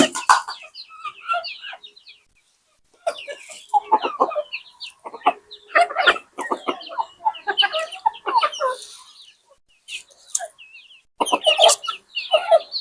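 Desi chickens clucking and calling busily at close range while being fed in the morning, in loud overlapping bursts with a few short quiet gaps.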